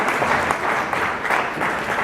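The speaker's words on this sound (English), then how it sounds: "to serve the community deserves a round of applause, ladies and gentlemen" Dense, steady applause from a large audience at a community gathering, filling the whole short stretch at close range with no voices standing out.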